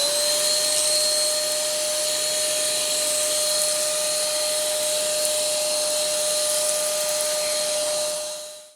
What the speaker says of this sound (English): We've now got so much electricity that now I even hoover my false